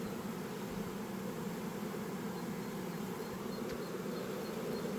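Dense, continuous buzzing of many honeybees at close range at a hive during swarming, a steady hum without pauses.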